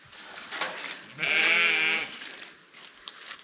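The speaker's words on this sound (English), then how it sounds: "I just put the sheep's food in, and here they come" Sheep bleating close by, one loud drawn-out bleat standing out over quieter bleats and rustling from the flock.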